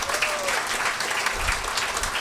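Steady audience applause at a club event honouring a member of a boys' cricket tour to Kutch, dense clapping sustained for the whole stretch with a faint crowd murmur beneath.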